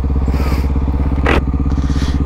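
A Honda XRE 299cc motorcycle thrums steadily at close range while riding, a loud low pulsing engine note, briefly crossed by a short scraping hiss near the middle.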